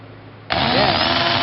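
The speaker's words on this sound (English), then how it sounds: "Set it back in, then turn on the drill." Power drill starting up and running steadily against a glass bottle, a sudden loud, sustained whir after a short quiet lead-in, close and alone.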